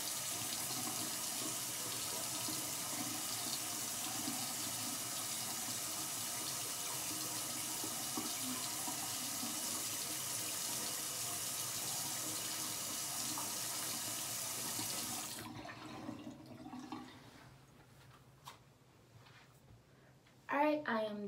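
A bathroom tap runs steadily while someone washes their face, a continuous close hiss of flowing water that stops near the end, leaving quieter handling sounds and a brief voice.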